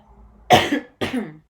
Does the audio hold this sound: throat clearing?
yes